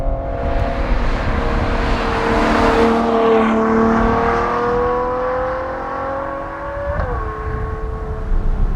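A powerful V12 car engine revs and roars continuously, pitch rising and falling as it accelerates, loud and close with no talking.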